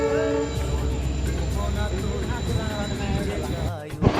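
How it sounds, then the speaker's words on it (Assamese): A train arrives and rolls along near Nalbari in Assam, giving a loud, steady rumble with rattling wagons that holds for about four seconds and then dips sharply at the end. "ট্ৰেইন আহি গ'ল গাইছ, ট্ৰেইন এতিয়া যাব লাগে আৰু।"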